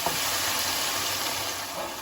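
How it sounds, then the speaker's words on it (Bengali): Mixer rinse water poured into frying spice paste with Kashmiri chilli powder in a pan for a kalbaush fish curry, giving a steady loud hiss and sizzle that stays constant for about two seconds with no talk. "এটা একটু মিশিয়ে নিয়ে সাথে আমি এই মিক্সি ধোয়া জলটা দিয়ে দিচ্ছি।"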